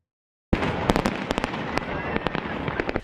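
Fireworks burst in a rapid crackling barrage, sharp pops and bangs overlapping after a brief silence, loud and close throughout.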